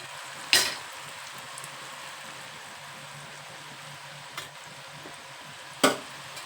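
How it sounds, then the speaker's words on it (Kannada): Kodubale, rice-flour ring snacks, frying in hot oil, giving a steady low bubbling sizzle with a few sharp clinks of a utensil against the pan, close and without talk. "ಈಗ ಎಣ್ಣೆ ಹಾಕಿ ಕರಿಯೋಣ"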